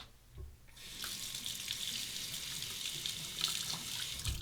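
Water runs steadily from a sink tap while a safety razor is rinsed of stubble during a shave, a close, continuous splashing hiss that begins after a brief quiet start.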